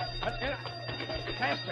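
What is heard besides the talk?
alarm ringing in radio drama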